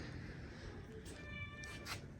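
A house cat meows a few times indoors, faint and close, with a quiet background hum and no talking.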